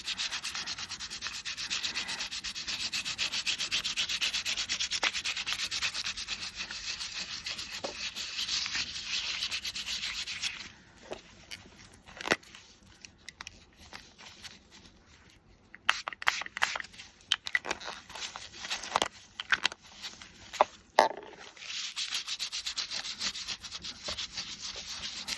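Close, soft rubbing and scrubbing on an embossed craft tag as mica is blended, steady for a while, then broken into scattered scrapes and taps before the rubbing resumes.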